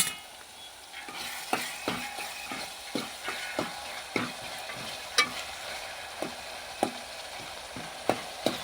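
Tomatoes and onions cooking in a pan sizzle steadily while a utensil stirs them, with repeated close scraping taps at an uneven rhythm.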